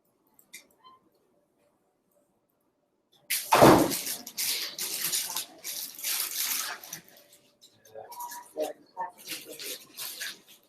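A water tap runs in short splashy bursts into a sink or bottle, near and fairly loud, starting after a quiet stretch, stopping and starting again.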